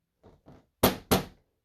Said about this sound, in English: I heard a knock on my door